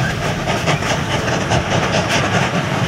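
A train runs on its rails with a steady, loud rumble and a rhythmic clickety-clack of the wagons, heard alone with no voices, in a drama set in colonial-era India.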